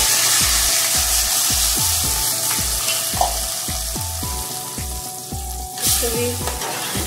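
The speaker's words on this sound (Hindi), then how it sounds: "जीरा हमारा अच्छे से फ्राई हो गया है। अब इसमें हम गोश्त डालेंगे।" Goat meat sizzles loudly in a pan with fried cumin, with a steady crackling hiss and regular, repeated scraping strokes of a spatula stirring it, and nobody speaking.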